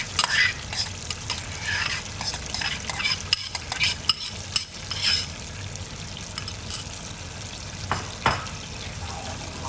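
Almond paste and yogurt sauce being stirred in a pan, with repeated scraping stirs, wet squelching and a light sizzle of cooking, close and steady without talk.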